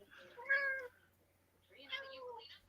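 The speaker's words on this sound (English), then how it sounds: "Here's the cat." A cat meows twice, fairly close and clear, each drawn-out call separated by a short quiet pause, with no one talking over it.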